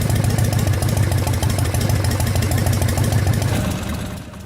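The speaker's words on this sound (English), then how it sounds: "With the engine fully warmed up and idling" A fully warmed-up motorcycle engine with an S&S carburetor idles steadily and loud up close, its rapid even pulsing continuous until it fades slightly at the very end; no one speaks.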